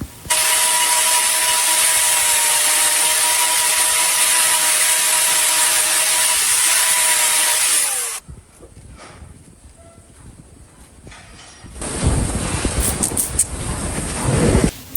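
An abscessed horse hoof sole is trimmed down, starting with about eight seconds of loud, steady whirring and grinding close by, then a quiet stretch, then rougher scraping and rasping bursts near the end.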